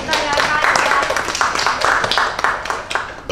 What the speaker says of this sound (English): I applaud you all.